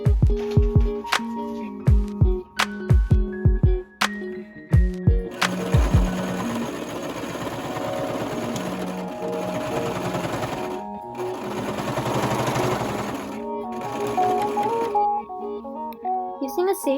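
A sewing machine stitches fabric and ribbon along the edge of a refashioned shirt-to-dress, starting in short chattering bursts and then running in a long continuous whir, close and prominent over background music.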